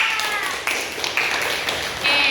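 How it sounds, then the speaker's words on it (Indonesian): Scattered applause from a classroom of students, a few quick uneven claps that pop out near and sharp over a noisy, echoing room for a couple of seconds. "Tepuk tangan semuanya"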